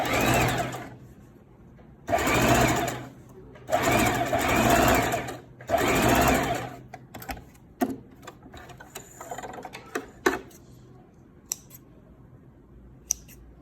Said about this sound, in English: now we are just going to do that same stay stitch over the needles